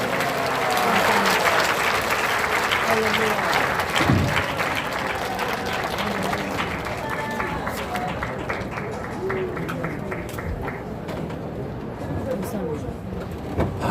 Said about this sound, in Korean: 수고 많이 하셨습니다 하고 박수 한번 쳐주시기 바랍니다